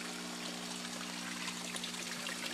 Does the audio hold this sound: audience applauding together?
no